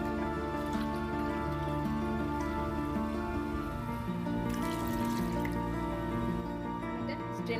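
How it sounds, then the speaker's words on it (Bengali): Water pours into a blender jug holding pineapple pieces, a steady trickling and splashing that runs the whole time, soft and close, with a strong musical background underneath. "পানি দিয়ে দিব।"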